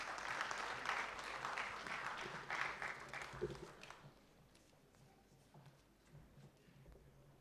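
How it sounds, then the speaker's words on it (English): Applause at an anniversary conference welcoming a session chairperson, fairly close and lively for about four seconds before fading to scattered claps and room quiet. "I would like to invite the chairperson of Consortium of Women Entrepreneurs of India and also the chairperson of this session with a huge round of applause."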